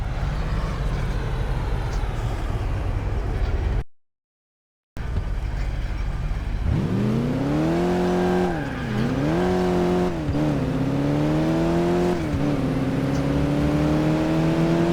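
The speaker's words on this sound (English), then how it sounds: "We're driving to the airport now." A car engine in the PC driving game Crash Time 3 runs at a steady road drone, then climbs in a loud revving whine, dips and rises again as the car accelerates and shifts. A brief dropout interrupts the drive.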